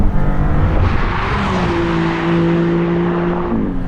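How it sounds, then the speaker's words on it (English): A 630 hp Maserati MC20 supercar accelerates hard with full throttle through its gears, a loud, continuous engine roar with tones that climb then drop sharply at quick shifts. "I'm just going to smash the throttle again because it's fun to go through 5 gears"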